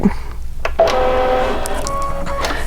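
A Kimberbell embroidery machine loaded with gray thread runs a quick placement stitch for batting, its motor whirring with steady tonal hums and shifting pitches, close and continuous with no talk.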